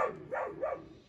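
A dog hiding under a backyard deck gives a few short muffled barks or whines, moderately close, in a quiet outdoor garden setting with no talk.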